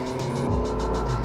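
A 2006-2009 Honda CR-V RE5 engine revs steadily under hard acceleration, a loud continuous drone with no speech over it.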